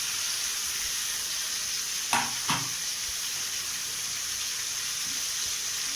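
Chopped tomatoes go into a sizzling onion masala for butter chicken, with a steady loud frying hiss throughout and two short stirring scrapes partway through.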